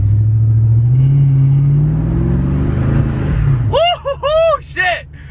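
Ford Foxbody Mustang fitted with new Magnaflow exhaust, a deep, loud rumble that swells as the engine revs, then cuts into excited whooping and voices from people near the car.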